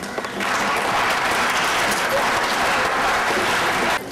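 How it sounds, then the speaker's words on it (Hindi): Sustained audience applause at a World Scouts Day celebration and award ceremony, a dense, even burst of many hands clapping that starts abruptly, holds steady for a few seconds, then cuts off. "एक बार मीठी ताली बजाके।"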